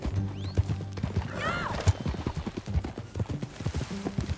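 In Red Dead Redemption 2, horse hooves clip-clop in an irregular walking rhythm while a horse lets out a clear whinny partway through, all close and moderately loud under faint game ambience.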